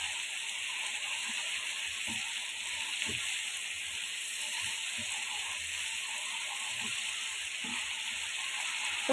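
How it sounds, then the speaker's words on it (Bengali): Potatoes and tomato frying together in a pan make a soft, constant sizzle, and occasional faint clicks from stirring sit underneath it. "আবারও আমি একটু ভালো করে কষিয়ে নেয় টমেটোর সাথে আলুটা"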